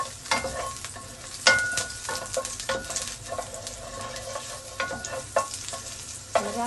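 Two spoonfuls of butter sizzle in a pan as a spoon stirs them, a soft steady frying hiss broken by sharp scraping clicks of the utensil against the pan.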